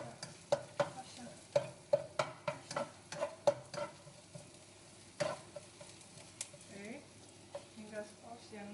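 Aromatics stir-fried in a wok for Malaysian mamak-style Maggi goreng, a soft sizzle under a steady run of sharp spatula taps and scrapes against the metal, close by, with a voice briefly heard.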